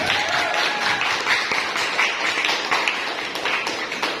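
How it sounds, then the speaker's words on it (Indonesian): A classroom of students applauds together, a steady, fairly loud wash of clapping that carries on evenly without talk. "tepuk tangan buat kita semuanya"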